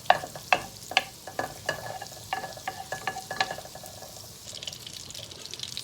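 Melted butter crackles and sizzles in a pan alongside clinks and scrapes of a utensil stirring, a busy close-up patter that settles into a steadier hiss toward the end.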